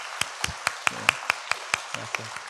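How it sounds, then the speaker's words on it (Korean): Applause during a Korean church Sunday service: a dozen sparse, evenly spaced claps over about two seconds, faint and fairly distant. "우리 박수 한번 해주시고"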